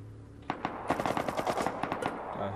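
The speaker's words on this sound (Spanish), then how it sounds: "se están pegando de tiros con otros" Gunfire in the survival game Rust: rapid machine-gun bursts of sharp, loud cracks in quick irregular volleys, with no talking over them.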